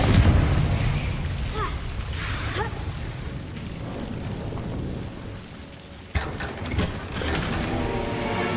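Confringo blasting spell in Hogwarts Legacy, a dense rumbling explosive roar that fills the space and fades gradually, followed by a sharp crack and a fresh burst of crackling debris near the end.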